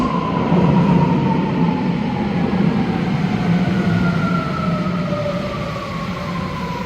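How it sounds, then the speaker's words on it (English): A local commuter train arriving at a platform on a rural stretch of a Tokyo rail line, its loud rumble joined by a slowly falling tonal whine as it decelerates, with no voices. "The local train bound for Shakuji is arriving at track 2."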